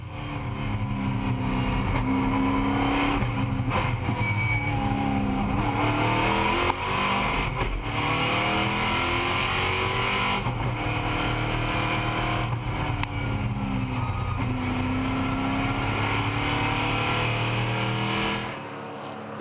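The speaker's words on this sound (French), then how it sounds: "Vincent Gonneau va assister à la spectaculaire sortie de piste de Joaquin Gabaron." A Chevy Monte Carlo stock car and other race cars roar continuously on the Aragon circuit during a 2011 RACECAR Euro Series race, with engine pitch rising and falling through shifts and revs before the sound cuts off abruptly.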